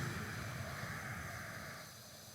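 Pressure washer spraying in the Powerwash Simulator video game, a steady broad hiss with a low rumble running nearly continuously, fading slightly toward the end.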